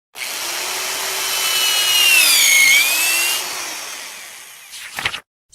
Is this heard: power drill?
yes